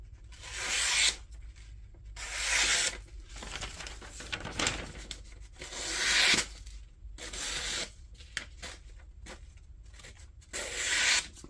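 A Kubey knife with a 14C steel blade makes a series of separate cutting strokes, each a rough, rasping slice of a second or so, spaced by short pauses, close and moderately loud.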